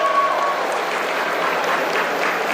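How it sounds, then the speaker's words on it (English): An audience at a college graduation ceremony claps continuously, a dense even roar of many hands, moderately loud with no talk. "Please keep clapping."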